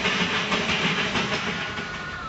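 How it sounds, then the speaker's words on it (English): Darjeeling's steam toy train, running from the Bengal lowlands up to the hill town, gives off a steady hiss and rumble with faint clickety-clack, continuous and moderately close throughout. "the steam train, called the toy train, that joins the Bengal lowlands to Darjeeling"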